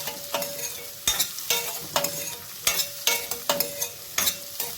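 Cucumber and pumpkin sautéing in a pan for sabudana khichdi, with steady sizzling broken by regular spoon stirs and scrapes about once a second, close and clear with no talk.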